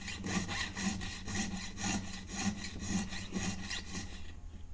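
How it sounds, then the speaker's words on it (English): Jeweler's saw blade cutting through a metal ring shank, rapid rhythmic back-and-forth strokes with a rasping, gritty texture, close and steady, quickening slightly toward the end. "I'm going to kind of speed up my sawing just a little bit and make my strokes a little bit shorter"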